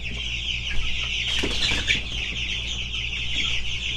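Young broiler chickens on a chicken farm at day fourteen of raising cluck and chirp steadily as a flock, a continuous busy murmur with a brief flurry of movement in the middle.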